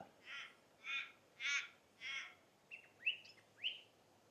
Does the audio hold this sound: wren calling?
yes